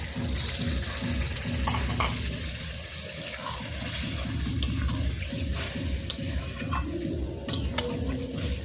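Lote fish goes into oily, fried-down spice paste and sets off a loud, steady sizzle with sputtering crackles and a few sharp clinks of stirring, heard up close with no voices.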